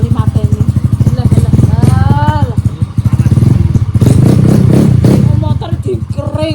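A motorcycle engine is kick-started and sputters into a rough, rapid idle that swells and fades, heard up close with people talking over it.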